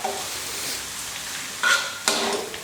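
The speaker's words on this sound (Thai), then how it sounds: "เดี๋ยวกระเทียมมันจะ สีเข้มเกินไป คนบ่อยๆครับ กระเทียมจะได้เหลือง สวยเสมอกันครับ" Garlic fries in oil over low heat, a soft continuous sizzle broken by two sharp stirring scrapes near the end, with no talking.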